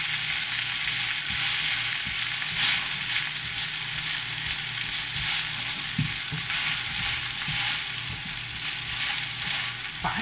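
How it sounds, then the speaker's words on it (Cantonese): Teochew crispy noodle cake pan-frying over high heat, giving a steady, loud sizzle of oil that runs throughout with occasional soft crackles and a faint hum underneath. "煎香佢，約莫係煎2分鐘到啦"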